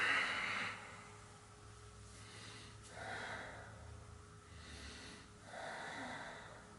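A person exhales audibly while stretching the fingertips during an exercise session, three soft, breathy releases spaced a few seconds apart, close and quiet, with no talking.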